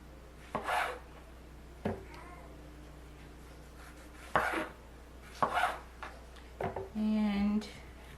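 A knife cuts heirloom tomatoes for soup on a cutting board, several separate sharp chops spaced irregularly, with a brief scraping rub at the end and a voice speaking between cuts.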